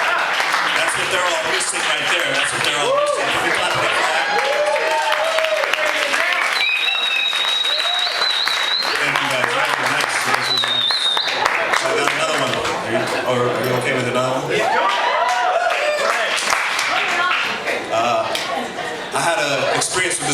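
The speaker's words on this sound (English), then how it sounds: "Can we clap it up for that?" Loud, sustained audience applause with cheers and whoops at a youth poetry reading, dense clapping from a crowd filling the room throughout with scattered voices mixed in.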